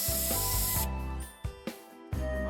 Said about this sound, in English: But not before giving herself one final spray, just for good measure.